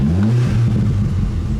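A car fitted with an induction kit revs hard once, a loud close-up roar rising and holding steady in pitch, heard alone.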